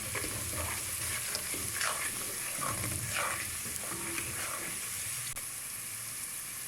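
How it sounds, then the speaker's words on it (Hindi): Spices sizzle in a pan for Lahori chana while a spoon stirs them, giving soft scraping strokes over a constant frying crackle. "अब हम इसमें अपने स्पाइसेस ऐड करेंगे, इसे मिक्स करेंगे।"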